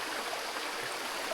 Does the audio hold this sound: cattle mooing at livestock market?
no